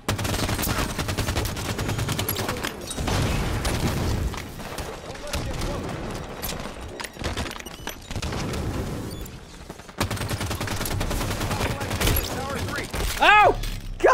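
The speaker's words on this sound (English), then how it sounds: "I got a shotgun." Shotgun fire in the video game Halo 5 sounds as loud, repeated blasts amid a chaotic firefight with other gunfire and booms, while players talk excitedly over the action.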